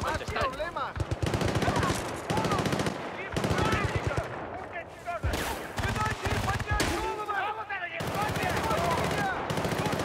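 Rapid, loud bursts of .50 caliber machine gun fire in the Battlefield Bad Company 2 video game, several sustained volleys broken by short pauses, with game voices mixed in.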